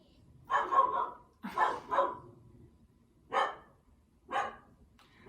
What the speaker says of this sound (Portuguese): E minha cachorra latiu.